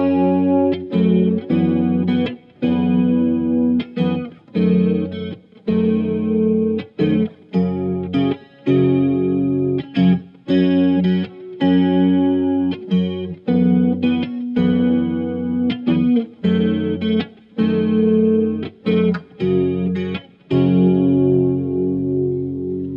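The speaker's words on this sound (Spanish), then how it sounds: "Si a esto le agregamos reverb, cambia por completo también la interpretación del chorus." Electric guitar played through an MXR 234 Analog Chorus pedal into a Blackstar HT20 Studio amplifier with its reverb on, a sequence of strummed chords and single notes with shimmering, wavering sustain and lingering tails.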